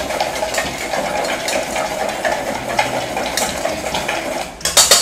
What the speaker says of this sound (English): So I'm just mixing all these spices up.